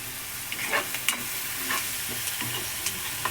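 Green chilies and onions sizzle steadily in a hot pan, with a few stirring scrapes and clinks over the constant frying hiss; no voices.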